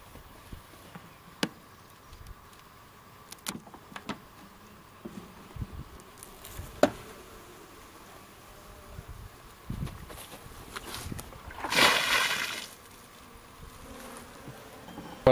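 Honey bees buzzing faintly around a small, dwindled cluster in a hive during a quick inspection, a soft hum under clicks and knocks of handling, with a brief louder burst of buzzing near the end.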